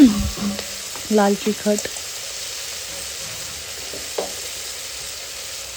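Potatoes sizzle softly in a pan as red chilli powder, turmeric and other spices go in, a steady low frying hiss under a few spoken words.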